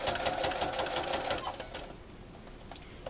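A sewing machine stitches quilt binding around a corner with a mitered fold, its needle rattling fast and close before easing into quieter, slower stitches as it stops to pivot.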